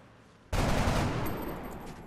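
A sudden burst of rapid gunfire erupts after a brief quiet moment and keeps rattling loudly, echoing as a dense volley of shots in the video game XCOM: Long War.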